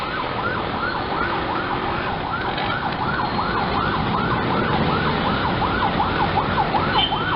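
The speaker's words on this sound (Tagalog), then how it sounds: "Meron pa rin ambulansya dumadating" An ambulance siren wails in a steady repeating up-and-down pattern as it travels along a road near an overpass, loud and continuous over traffic rumble.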